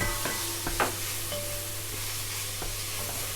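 Onion and leek sizzle softly in a pan while being stirred, a steady low frying hiss with a few scraping and tapping utensil sounds, no voices.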